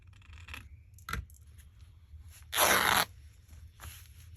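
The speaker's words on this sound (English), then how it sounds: "Just rip it up." Lace fabric torn by hand, one sharp, loud ripping burst lasting about half a second, set among quieter rustles and small crackling handling sounds in a quiet room.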